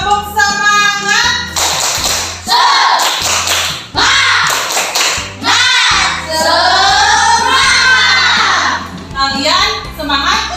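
Schoolchildren in a classroom doing a rhythmic spirit clap: group claps in a patterned beat, loud and near, mixed with a teacher's and children's voices chanting along and a low musical backing.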